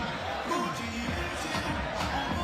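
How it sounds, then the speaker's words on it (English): A crowd at a FIBA 3x3 basketball game roars with steady, loud cheering and din, a continuous wash of voices and whistles that holds for a couple of seconds. "The crowd is lit."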